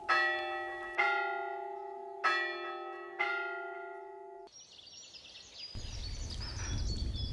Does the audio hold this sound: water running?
no